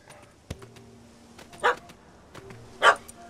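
A puppy in The Witcher 3 barks twice in short, sharp yaps about a second apart, close by, with faint thuds and scuffs in between.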